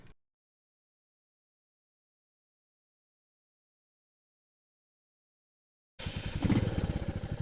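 A Royal Enfield Meteor 350cc motorcycle engine bursts into a loud, steady running note after a long stretch of silence and carries on with a throbbing pulse for the final second or so.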